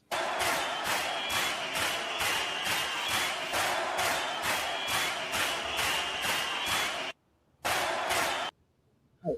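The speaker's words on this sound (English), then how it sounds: "that's more like a slow hand clap" Slow, steady hand claps repeat in an even rhythm for about seven seconds, each clap sharp and evenly spaced, then stop briefly before one last short burst; no voices are heard.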